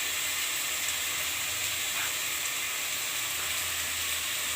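Onions frying in a pan, a steady soft sizzle and hiss running unbroken at low level with no voices.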